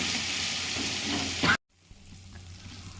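A ground spice paste for a cabbage dish fries and is stirred in hot oil, a loud, dense sizzle that cuts off suddenly, leaving faint kitchen background.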